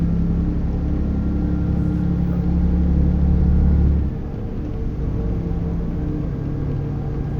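Deep, bassy engine drone of a Mercedes-Benz MP5 truck in Euro Truck Simulator 2, a steady low rumble that drops slightly in level partway through, continuous and close with no talking.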